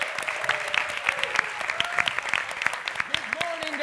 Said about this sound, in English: a crescendo of applause, please